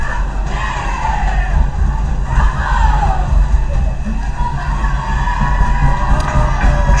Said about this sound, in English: Crowd doing the Bears rumble, trying to get things fired up.